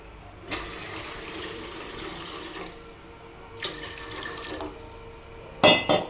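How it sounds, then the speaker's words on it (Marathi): Water splashes into a metal idli steamer pot in two separate pours, a longer one followed by a shorter one. A sharp metallic clatter comes right at the end. "तर मी अजून पाणी टाकून घेणार आहे त्याच्यामध्ये."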